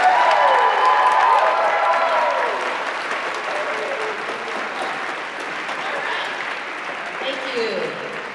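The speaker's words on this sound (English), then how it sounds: "give a big hand, a big applause, hoot and holler" Commencement audience at a 2022 graduation ceremony claps and cheers loudly and steadily, with whoops rising over the dense applause, which eases slightly after a couple of seconds but carries on throughout.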